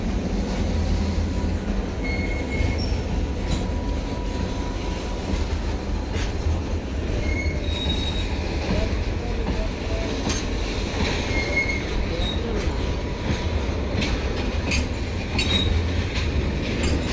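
Trains pass close by, giving a loud, continuous rumble of rolling wagons with high, thin wheel squeals that come and go throughout.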